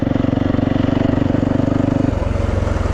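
Yamaha YZ450FX dirt bike ridden slowly along a lakeside trail, its four-stroke engine thumping steadily and loud close up, the pitch dropping partway through as the rider eases off.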